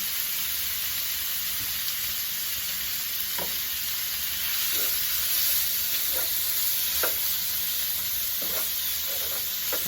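Meat for a Philly cheesesteak fries in hot oil in a pan with a loud, continuous sizzle and hiss, dotted with small crackling pops and spatters.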